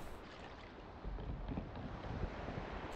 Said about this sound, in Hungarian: van egy nagyobb hajónk, amit ugye ki is próbálunk.